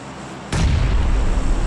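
A grenade blast in the battle-royale game PUBG: a sudden loud boom hits about half a second in, followed by a heavy, rumbling low-end roar that sustains to the end, with no voices.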